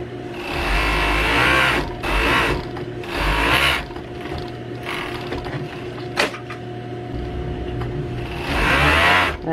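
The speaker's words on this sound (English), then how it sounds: "Sew them together." A sewing machine stitches a cape together in several loud whirring bursts of a few seconds each, separated by short pauses with quieter mechanical hum and an occasional click.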